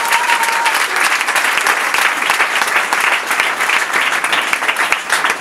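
A church congregation applauding in praise during worship, with dense, loud, continuous clapping from many hands filling the whole stretch without a break.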